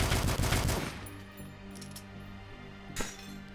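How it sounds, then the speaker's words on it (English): Rapid burst of video-game gunfire in the retro shooter DUSK fires at the player, loud at first and then dropping away to a ringing tonal hum, with one more sharp crack near the end. "Bullets flying at me."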